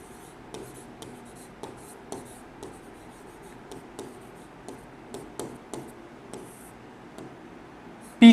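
A pen scratching across paper while a geometry problem on circle theorems is written out, steady soft strokes with small rhythmic ticks, close and quiet, ending in a short louder knock.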